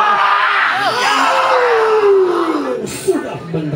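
A crowd screams loudly and continuously at a tug-of-war match, with a voice calling over the roar, dense and close throughout.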